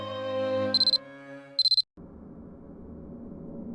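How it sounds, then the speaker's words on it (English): A cell phone alarm beeps in two quick bursts of rapid pulsed tones over a sustained musical drone, then cuts off into a muffled room ambience. "The alarm on my cell phone sounded as if an answer."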